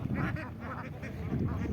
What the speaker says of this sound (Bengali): দেখুন হাঁসগুলো খুব সুন্দর দলবদ্ধভাবে চলতেছে